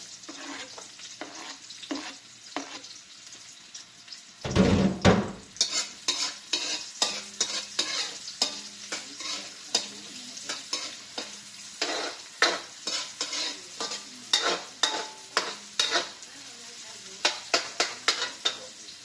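Onions frying in a pan, with a loud burst as they hit the hot oil, then a constant sizzle and rhythmic scraping stirring strokes close by. No voices are heard.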